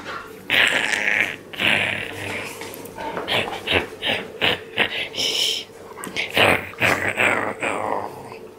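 Dogs greet someone arriving home with excited snuffling, whines and scrabbling bursts that come close and irregular, mixed with soft human voices.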